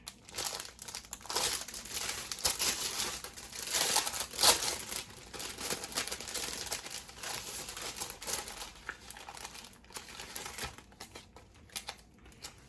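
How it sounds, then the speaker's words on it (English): Fragile stickers are peeled and pressed onto a packed shipping box, giving a stretch of soft crinkling and rustling with a few sharper crackles, close and fairly quiet. "But what I am gonna do is put some fragile stickers on it."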